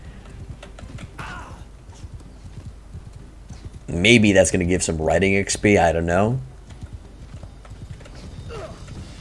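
Horse hooves clip-clop rhythmically during cavalry charges in Mount & Blade II: Bannerlord, a quick steady gallop underneath someone talking, with a brief burst of louder in-game sound in the middle.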